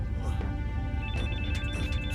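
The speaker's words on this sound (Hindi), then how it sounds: "फोन उठाओ।" A telephone rings in a dubbed Hollywood action movie scene, its repeated electronic ring sounding loudly over dense background music and effects, with a voice speaking at the start.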